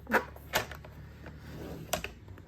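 A few short, sharp clicks and taps while scoring a fold line on a strip of paper for a scrapbooking mini album, quiet and close, spaced out over a couple of seconds.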